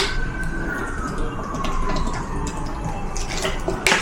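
Water runs from a tap in a steady, close splashing stream, with some clinks of objects nearby and no talk.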